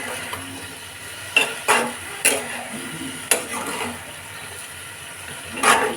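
Bitter gourd, potato and onion fry being stirred with salt in a pan, a handful of distinct scraping, clinking strokes spaced irregularly over a faint background, close and moderately loud, with no talk.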